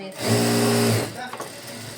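A sewing machine stitches puff sleeve frills in a short, loud whirring burst of about a second that then slows and stops, with a voice talking over the end.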